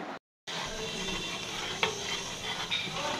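Kheer rice pudding is stirred with a spoon in a pot, giving a steady soft bubbling hiss with a couple of faint scrapes, close by and without talk.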